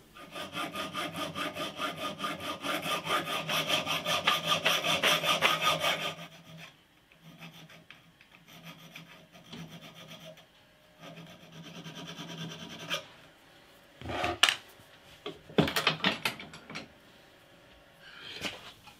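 A hand saw cuts slots into aluminium for a homemade tune-o-matic guitar bridge, with fast, rhythmic rasping strokes for several seconds, then quieter scraping, filing and a few knocks and clatters.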